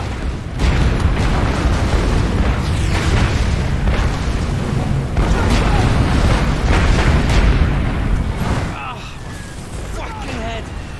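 Incoming artillery shells burst in War Mongrels, a WW2 strategy game: heavy, close booms rumble one after another in a dense barrage, with soldiers shouting over the explosions and the noise easing off near the end.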